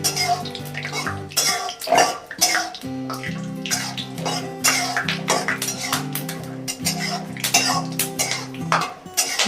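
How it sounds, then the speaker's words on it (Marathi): Peanuts are stirred and roasted in a metal pan for poha, giving a continuous close scraping and rattling clatter of nuts and spatula against the pan. "असे परतेपर्यंत हलवत राहायचे, नाही तर मग ते काय होतं, काळे पडतात शेंगदाणे"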